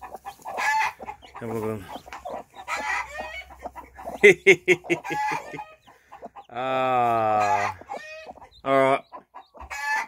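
A hen sitting on eggs clucks and calls in close, repeated bursts, with other chicken vocalizations mixed in and a person speaking briefly between the sounds.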